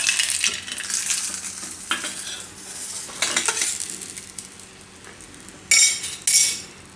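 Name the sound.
cheese garlic rotli roasting in ghee on a pan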